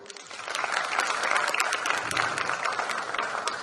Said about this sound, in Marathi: तर या दोघांसाठी आपण टाळ्या वाजवूया